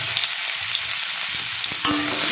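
Boiled garlic cloves frying with dried chillies in hot oil for a water spinach and fish dish, a dense close sizzle with a brief stirring clatter near the end and no voices.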